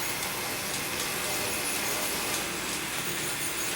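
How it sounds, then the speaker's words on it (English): A steady, continuous rolling rumble with faint metallic clicks of a model train running along track at a constant pace, with no voices. "I'm going to see if I got some sound on this so you guys can actually hear the trains going by"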